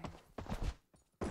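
Horse hooves in a medieval knight video game, a few quiet, uneven clops in quick succession, close by and alone.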